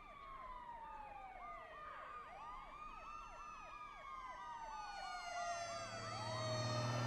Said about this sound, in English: It was actually the firefighters. It's actually a fire truck.